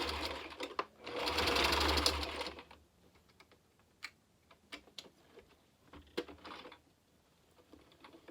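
Sewing machine stitching elastic on a wristlet, a dense mechanical whir for about two seconds near the start, then quieter scattered clicks and taps of handling with no voices.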